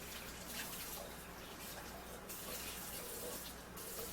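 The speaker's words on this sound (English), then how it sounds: "Hot water." Hot water runs from a kitchen tap in a steady, soft hiss while a cup is filled for a crock pot, heard close with no talking over it.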